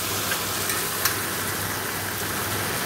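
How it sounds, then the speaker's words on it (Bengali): Loud, continuous sizzling of taro stolons frying with prawns in a pan, with a few light scrapes of stirring, close up and uninterrupted. "চিংড়ি মাছ দিয়ে ভালো করে ভাজা ভাজা করে নিই কচুরলতিটা"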